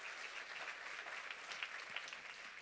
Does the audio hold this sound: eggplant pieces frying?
no